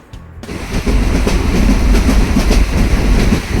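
A train rumbles along the rails with a steady, loud clatter after a brief quiet start, rhythmic wheel clicks running throughout.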